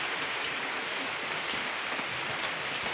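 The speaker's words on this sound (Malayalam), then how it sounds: "ഇന്നുണ്ടല്ലോ എന്തൊരു മഴയാണ്" Heavy rain falls in a dense, even wash of noise, continuous and close, with no voices over it.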